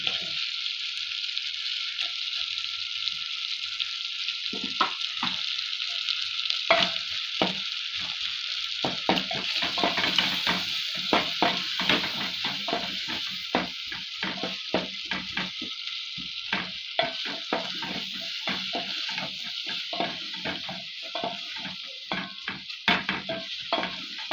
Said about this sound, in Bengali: মশলা লাল লাল করে ভাজা হয়ে গেছে ওর মধ্যে আর পেঁয়াজ কাটাগুলো দিয়ে দিচ্ছি